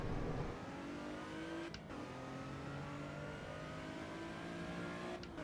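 A supercar engine holds a steady mid-rev drone in the sim racing game Assetto Corsa Evo, with two brief gear-shift dips along the way. It is fairly faint and continuous.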